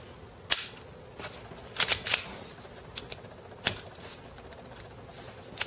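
Dry-fire function test of a Martian Commercial 6.35mm pistol: a handful of sharp metallic clicks and snaps scattered irregularly, close and fairly quiet, with no talking.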